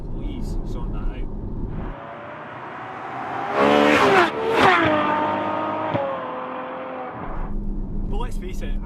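A Ferrari 812 Superfast V12 revs up hard for a few seconds, its rising engine note loud and close before easing off, with brief talk before and after.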